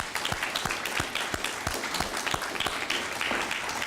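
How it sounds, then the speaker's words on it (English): A crowd at a juvenile drug court graduation ceremony claps for the parents, a moderately loud spread of many hands with a few sharper individual claps standing out near the front. "here's a round of applause for you guys."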